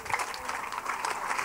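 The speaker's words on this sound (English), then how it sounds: "That clap is not enough" A church congregation claps during a testimony service, a fairly quiet, loose patter of hands with irregular rhythm and a faint distant room quality, lasting only a moment.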